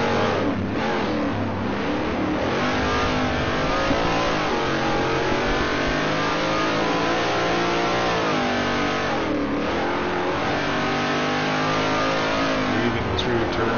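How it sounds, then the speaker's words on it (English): A Dodge Dart race car in a historic Trans Am race at Sears Point roars and revs continuously, loud and close, its engine pitch rising and falling through the turns. "And that Dodge Dart. Speaking of cars that sound fantastic, this is one of them."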